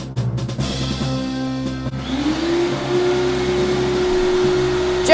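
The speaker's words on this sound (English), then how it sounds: "why does the elevator sound like a vacuum?" Elevator starting its descent with a vacuum-cleaner-like whine, a steady motor drone that rises into a sustained humming tone and keeps running loud and close with no voices.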